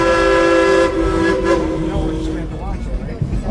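An amusement park train ride rolling slowly past a Country Fair area, with a strong steady whistle-like tonal blast holding through the first half and then fading into rumbling ride noise, close and loud.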